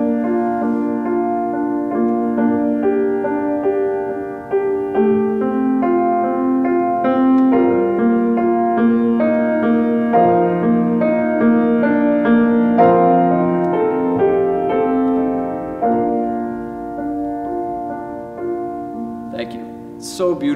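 A piano plays the gentle, sustained opening accompaniment of Schubert's song "Du bist die Ruh" in a cathedral, with soft, steady repeated chords and a slowly moving melody, heard alone and close.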